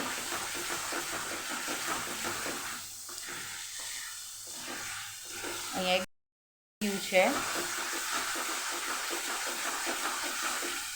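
A thick chiku barfi mixture is stirred briskly in a kadai, with soft scraping and sizzling under a voice speaking, a brief dropout midway.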